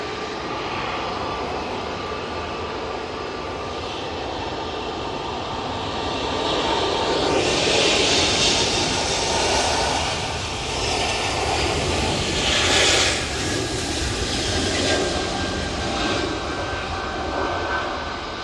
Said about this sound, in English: we're going to jump on to the Etihad 777-300ER, which is now on finals, coming in from Abu Dhabi